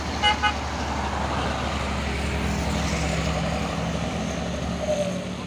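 A Mercedes-Benz tour bus passes on a Sumatran road, a steady loud engine drone with a brief horn toot near the start, no voices.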